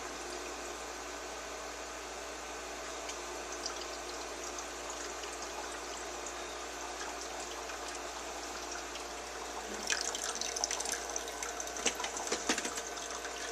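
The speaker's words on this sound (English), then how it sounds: "it's just dropped a set of ice here, and it's refilling and going to make another set" A refrigerator ice maker refills its tray with water after dropping a set of ice. A steady, faint mechanical hum runs throughout, then a brief burst of trickling and gushing comes near the end.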